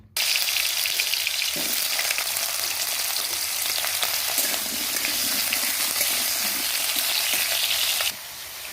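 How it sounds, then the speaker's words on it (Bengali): Potatoes dropped into fresh hot oil for a fish curry, a sudden loud sizzle that holds as a dense steady frying hiss with light stirring, easing off abruptly near the end. "নতুন তেলটা দিয়ে দিয়েছি, আলুগুলোকে ছেড়ে দেবো তেলে।"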